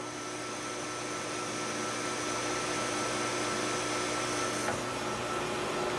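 A lathe cuts the smaller threaded section of a solid rocket motor igniter, producing a steady, loud, continuous machining whir and hiss that holds for several seconds with no talk.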